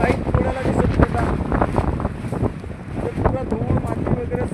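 Strong storm wind roars and buffets the microphone in a village after a dust storm, a loud, continuous gusting rush with surging swells throughout.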